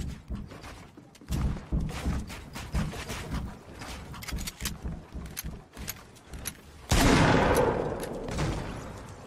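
An SMG fires in Fortnite in rapid, sharp bursts of close gunfire that keep going for several seconds, followed by a louder, sustained blast near the end.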